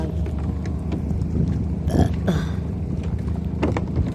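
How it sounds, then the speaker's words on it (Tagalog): Loud burps from a seasick person on a rocking boat, two or three guttural belches standing out over wind and water noise, close to the microphone. "May dighay."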